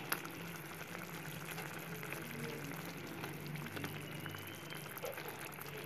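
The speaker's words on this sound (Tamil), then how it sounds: "இப்போ பார்த்தீங்கன்னா நல்லா கொதிச்சிருச்சு" Paneer masala bubbling and simmering in a pan, a steady close hiss and pop of thick liquid boiling throughout with no speech.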